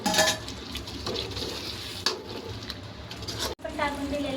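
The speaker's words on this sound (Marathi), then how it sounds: "आता आपल्याला सोडायचे या मसाल्यामध्ये आपले तळलेले अंडे।" Fried eggs dropped into oily, cooked masala in a pan, giving a steady close sizzle and frying hiss with a few sharp clinks of a spoon against the pan.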